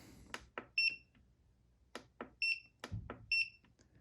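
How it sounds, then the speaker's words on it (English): An EcoFlow RIVER Pro portable power station emits three pairs of sharp, loud electronic beeps at a steady interval, with brief handling clatter and rustling of packaging between them. "Pretty loud beep"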